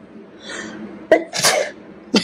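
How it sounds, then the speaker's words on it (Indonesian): Sneezes come in quick succession, a first breathy one, then a sharp burst followed by a fuller sneeze and another short one, close and fairly loud, with no talking. "bersin lagi"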